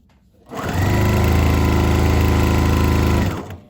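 A sewing machine runs steadily for about three seconds, stitching a seam with the edge of the presser foot as the guide on fabric for a weighted heat massager cover. The motor is loud and close and speeds up and slows down smoothly.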